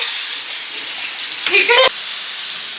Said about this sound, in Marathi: पाण्याचा आवाज येतो कारण मम्मी भांडी घासायला चालू झाली